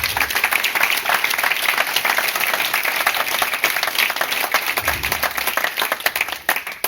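Room full of people at an association's general assembly applauds its partners, a sustained, even wash of dense clapping that carries on loudly before tapering at the end.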